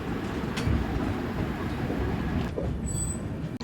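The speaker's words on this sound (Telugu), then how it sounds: "మా ట్రైన్ అయితే దువ్వాడ స్టేషన్ నుంచి బయలుదేరిపోతుంది." A Swarnajayanti superfast express rolls out of Duvvada station, a steady loud rumble of wheels and carriages running continuously, with a faint high whine appearing near the end.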